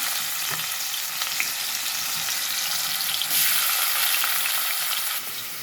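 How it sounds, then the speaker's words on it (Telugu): Ground onion and green chili paste hits hot oil in a pan and sizzles loudly and continuously, with a brighter surge of frying midway and faint stirring scrapes, no voices. "ఇప్పుడైతే ఇలాగ నూనెలో వేసేస్తున్నాను."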